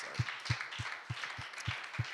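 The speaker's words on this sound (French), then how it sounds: "Pouvons-nous applaudir pour nos mamans un peu juste pour un" A church audience applauds with a broad wash of clapping, underscored by a steady, regular low thump keeping time about three times per second.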